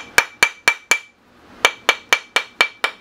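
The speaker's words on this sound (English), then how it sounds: "Then I can start hitting it a little harder with this nylon hammer" A nylon hammer taps a sterling silver ring in sharp, ringing strikes, four evenly spaced, a short pause, then seven more at the same steady rhythm.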